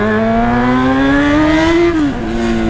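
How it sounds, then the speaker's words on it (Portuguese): A Honda Hornet motorcycle engine revs hard and close, its pitch climbing steadily before dropping sharply near the end and settling back to a lower idle-like note. "O ronco do Hornetão apaixona o coração"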